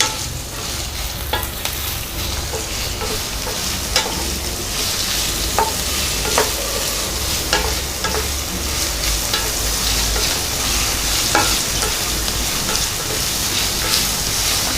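Sliced onions, green chilies and curry leaves sizzle in hot oil for mutton varuval, a steady close crackling fry with scraping stirs throughout and no talking.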